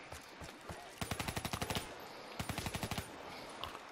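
Rapid automatic gunfire from Call of Duty Black Ops 3 Zombies, two bursts of evenly spaced shots over a steady background game hum with ambient effects.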